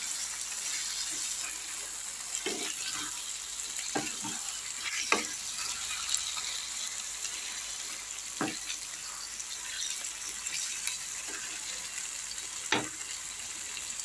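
Chicken masala frying in hot oil sizzles steadily at close range, broken by scattered soft knocks and splashes as hot water goes in and the pan is stirred; no one speaks.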